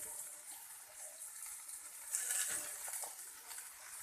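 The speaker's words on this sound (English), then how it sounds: "Now I am adding brinjal." Purple brinjal tipped into a pan of vegetables cooking with turmeric and salt, heard as a continuous wet sizzle and hiss with a brief louder splash partway through.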